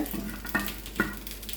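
Vermicelli being lightly roasted in ghee for a sweet milk payasam gives a soft sizzle, broken by a few scraping stirs at an unhurried pace.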